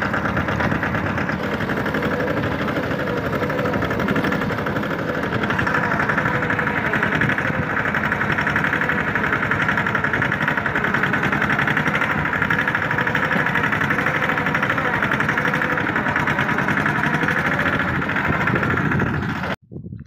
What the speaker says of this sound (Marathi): आता ट्रॅक्टर घरी घेऊन जाऊ.